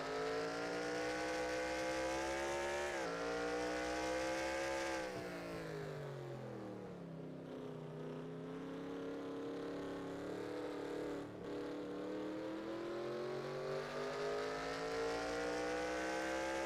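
Race cars in a Daytona Clash exhibition racing video game roar around the track, a loud continuous engine drone whose pitch rises and falls as the cars accelerate and pass, with no talking.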